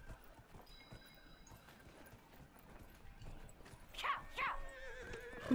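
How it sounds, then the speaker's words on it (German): Faint hoofbeats clip-clop steadily from a horse in the video game Dragon Age: Inquisition, then a louder whinny rises near the end over the quiet game ambience. "Mein Pferd."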